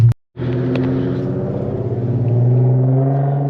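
An Infiniti Q50's engine on a tuning pull snaps in after a brief silence and holds a loud, steady rev with a deep droning note that climbs and swells toward the end.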